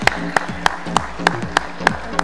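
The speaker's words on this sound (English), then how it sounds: "Well, a big round of applause." Audience at an investment knowledge summit claps in a steady, evenly spaced rhythm, sharp distinct hand strikes about three per second over a low sustained background.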